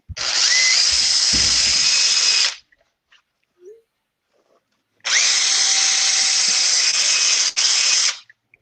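A power drill with a 3/16-inch bit whines loudly in two sustained bursts while re-drilling holes on a 1/6-scale Nieuport 17 model build, each burst about three seconds long, with a quiet gap and a few small clicks between them.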